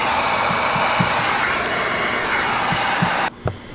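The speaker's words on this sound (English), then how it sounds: "So I'm going to take the heat gun and just continue working." A heat gun blows steadily at close range while warming a vinyl RV slide decal, a continuous airy roar with faint soft taps beneath, cutting off abruptly near the end.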